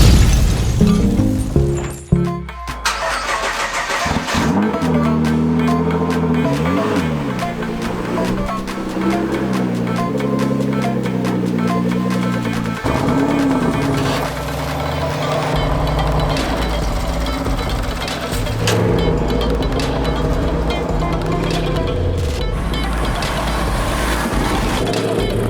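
A car engine runs loud and close for a long stretch, a steady droning rumble with rising and falling revs as it drives, after a brief clattering start.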